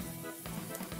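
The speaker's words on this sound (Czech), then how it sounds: "Mentoska mírně šumí." Cola in a glass fizzes gently after a Mentos candy is dropped in, giving a brief, close crackling hiss of tiny bursting bubbles with no speech.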